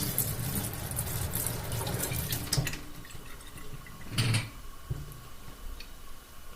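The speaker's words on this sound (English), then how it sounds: "I'm going to turn the faucet on" Water runs steadily from a kitchen sink faucet that has just been repaired for a leak, a continuous close hiss with a few small splashes and drips.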